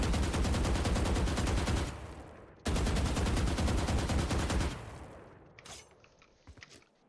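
Rapid automatic gunfire in the Valorant video game, two long sustained bursts of loud, evenly spaced shots with a short gap between them, then a few faint scattered clicks and rattles as it dies away.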